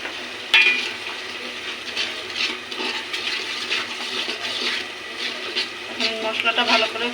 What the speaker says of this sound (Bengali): মশলাটা ভালো করে কষানো হোক।